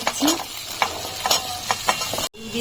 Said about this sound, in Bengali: এখন সব সবজিগুলো আমি ভালো করে ভেজে নেব।